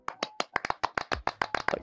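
A rapid run of light, crisp hand claps, close and fairly quiet, tapping along in a brisk, slightly uneven rhythm.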